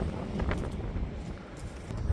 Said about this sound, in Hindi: अभी भी देखिए जो हवा चल रही है ना